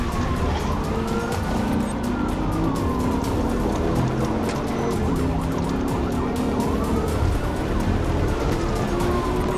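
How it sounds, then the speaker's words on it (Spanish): Police sirens wail through the night during a high-speed highway chase, rising and falling steadily over the rush of traffic and engines, loud and continuous with no voices. "Las sirenas resonaban en la noche mientras el soldado lo perseguía"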